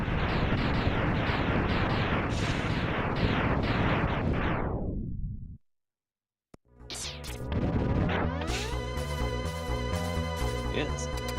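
Loud, dense booming explosions from the video game Mega Man X, a sustained rumbling barrage that cuts out abruptly to silence for about a second, then returns as game sound effects and music.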